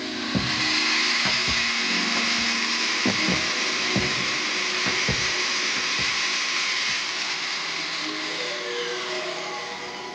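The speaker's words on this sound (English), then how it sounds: "So I'm going to line it up one more time, spin it fast again, and then touch it down." A graver is sharpened on a fast-spinning power hone wheel, a steady close whir broken by irregular brief knocks and scrapes as the tool touches down, with no talk.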